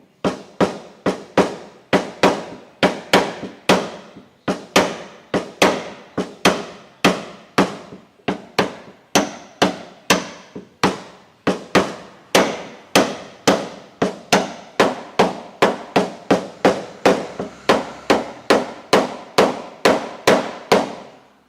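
Wooden block being hammered against a car dent during paintless dent repair, a long steady series of sharp knocking blows, close and loud, about two strikes per second with a brief pause midway.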